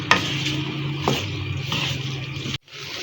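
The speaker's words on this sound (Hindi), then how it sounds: "तो बस हम दरमियानी आंच पे इसको भूनेंगे और चम्मच चलाते रहेंगे थोड़ी थोड़ी देर से" Okra frying over medium heat in a pan, stirred with a spoon: a steady broad sizzle with scraping strokes and a couple of sharp knocks, ending in a brief dropout.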